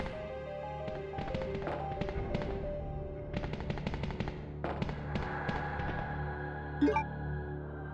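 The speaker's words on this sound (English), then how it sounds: "Just shoot him." Gunfire in the PlayStation game Resident Evil 2: several rapid clusters of sharp shots, loud and crisp, separated by short pauses, with a softer tone ringing underneath.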